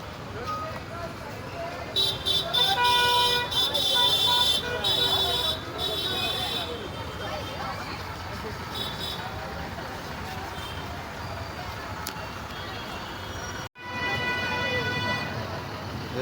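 Congested road at Diva where free Ganpati special buses line up for the Konkan trip: engines rumble beneath several loud horn blasts early on, with more toots later and people talking nearby.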